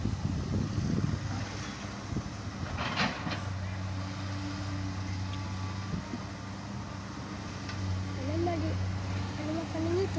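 Strong wind buffets an outdoor microphone beside red-earth truck loading, a steady low rumble and roar with gusts, while people talk over it.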